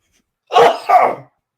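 A single sharp sneeze, close and loud, bursts out in two quick parts against a quiet background.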